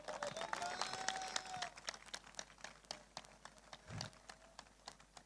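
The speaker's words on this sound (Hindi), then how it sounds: "वो जोर दी ताली बजा के प्रभु दा धन्यवाद करो जरा" A church congregation claps during a worship service in a run of sharp, fairly quick hand claps, quiet and somewhat uneven, with faint background murmur.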